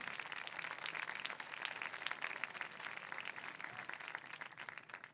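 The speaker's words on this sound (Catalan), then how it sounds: "Fort aplaudiment." Applause from an outdoor audience at a medieval troubadour night festival in Montblanc, a steady dense patter of clapping lasting throughout, moderately loud and fairly distant, with no talk over it.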